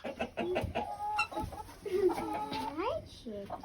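A chicken in a hen house gives a run of close, soft clucks and rising, chirpy vocal calls, several separate notes over a few seconds with quiet coop sounds between them.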